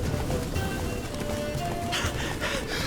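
Hooves of Roach, the horse in the game The Witcher 3: Blood and Wine, pounding in a steady gallop under music and ambient game sound, fairly close and continuous.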